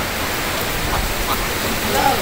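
Rain pours during a storm in a Bangladeshi village, a dense, close, steady hiss that continues unbroken throughout.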